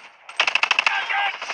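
A brief close burst of rapid automatic gunfire in the shooter game Call of Duty, about eight evenly spaced shots followed by a sustained ringing roar, loud and alone.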